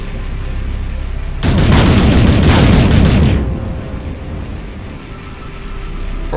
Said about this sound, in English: So to mine in this game, you just shoot things